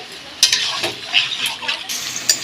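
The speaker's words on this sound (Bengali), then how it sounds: "নাড়িয়ে চাড়িয়ে ভালো করে চিকেনটাকে কষিয়ে নেব" Chicken sautéing in a pan while being stirred, short bursts of sizzle and scraping from a spatula in quick irregular strokes, close and moderately loud.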